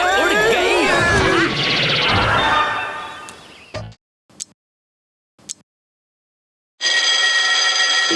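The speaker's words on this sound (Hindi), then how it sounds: "बंद करना अलार्म।" An alarm clock rings in a cartoon scene, a loud continuous bell-like ringing that cuts in after busy music and brief sound effects, followed by near silence.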